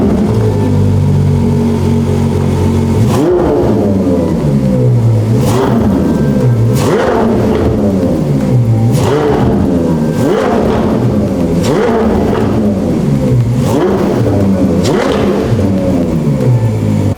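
A Ferrari 812 Competizione's engine revs repeatedly, loud and close, with a steady idle rumble broken by about eight sharp throttle blips that climb and fall in a regular rhythm.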